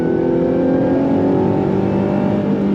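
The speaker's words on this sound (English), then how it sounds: "Just enough supercharger whine to know that there's a supercharger underneath the hood" A 2025 Ford F-150 Raptor R's supercharged engine pulls hard under throttle, a loud, dense, steady roar with a faint high whine layered over it, close and continuous throughout.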